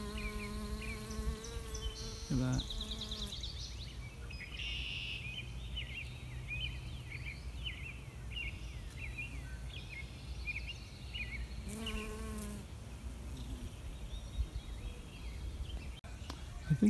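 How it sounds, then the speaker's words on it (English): Honeybees buzz around fruit tree blossoms, a soft, wavering drone close by in a quiet orchard, while a person speaks briefly and birds call now and then. "Oh, there's a honeybee."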